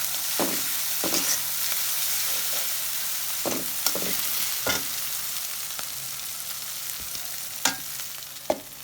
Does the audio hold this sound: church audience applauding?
no